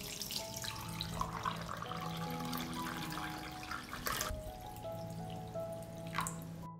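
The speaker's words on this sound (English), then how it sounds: "I pour hot water into the pot up to the height of the lid." Hot water is poured into a pot holding hot jars, filling it to lid height; a continuous splashing pour with dripping and faint clinks, quiet and close, with a brief pause and a final trickle.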